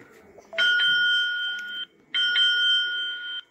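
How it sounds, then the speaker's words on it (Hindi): Two long electronic alarm tones from a phone-finder gadget ring out loud and steady, each lasting over a second with a short gap between, over a quiet background. "अलार्म है ये,"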